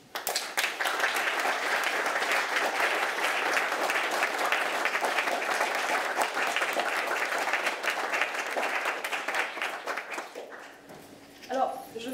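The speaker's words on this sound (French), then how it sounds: "je voudrais qu'on les applaudisse" An audience applauds at an award ceremony for the insignia of Chevalier of the Ordre national du Mérite, a full, sustained roomful of clapping that tapers off near the end, where a voice briefly speaks.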